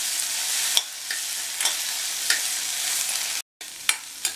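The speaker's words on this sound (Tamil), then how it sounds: "இதை எண்ணெயிலேயே 1 நிமிஷம் போல் வதக்கினா போதும்" Small onions sautéing in hot oil for a Tamil vengaya thokku, a steady close sizzle with a few sharp stirring scrapes and a brief cut near the end, no voices.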